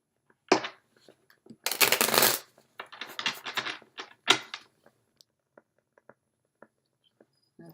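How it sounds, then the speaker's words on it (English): A deck of tarot cards is shuffled by hand in quick riffling bursts, crisp papery flutters and taps close by, with scattered softer clicks trailing off afterward. "So we're going to go ahead and give these a shuffle as well."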